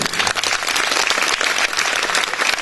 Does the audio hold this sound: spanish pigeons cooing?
no